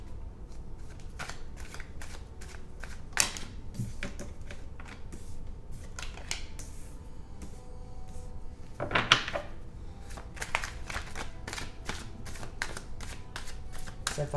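Tarot cards being shuffled by hand in a quick run of crisp riffling snaps, close and quiet, with a longer flurry partway through.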